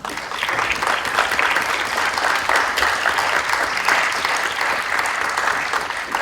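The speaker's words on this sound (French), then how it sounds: "qu'on puisse donner un tonnerre d'applaudissements pour tous ces militants et Juan Branco" A large audience at a public talk gives sustained, dense applause for activists. The clapping is steady and loud throughout, with no breaks.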